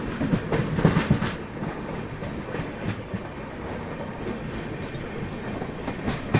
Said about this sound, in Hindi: अभी हमारी ट्रेन रामागुंडम रेलवे स्टेशन पहुंच रही है